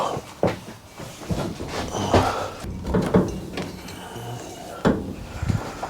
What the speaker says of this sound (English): Maybe if we open the back door.